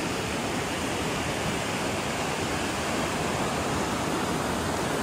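Río Verde rushing below a suspension bridge in the Sierra Sur of Oaxaca, a steady, broad roar of flowing water that stays constant and loud without pause or voices.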